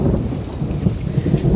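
Thunder rumbles low and steady during a hailstorm in Jardines de Morelos, with rain hissing along beneath it. The rumble is continuous and moderately loud, and no one is speaking.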